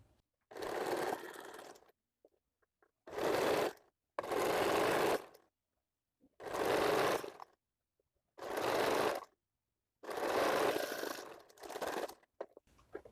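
A sewing machine stitches the seams of a bra-cut blouse in six quick bursts of running needle noise, each separated by short silent pauses, close and clear with no talking.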